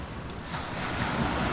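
Sea surf rolls steadily onto the shore on a bright morning, a broad continuous wash that swells slightly, mixed with some wind rumble on the microphone.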